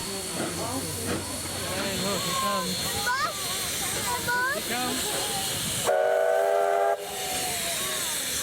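Steam locomotives 3526 and 2705 hiss and chuff while shunting at close range amid rail noise, with a short, loud steam whistle blast partway through and voices in the background.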